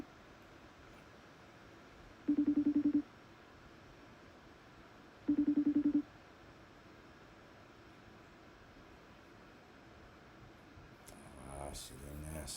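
A telephone ringback tone sounds twice in a slow, even pattern, each long ring separated by several seconds of quiet line hiss, with no pickup; a brief burst of clatter or noise follows near the end.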